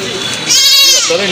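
A goat gives a single wavering bleat over busy background chatter and noise at a village cattle and goat market in Dimla.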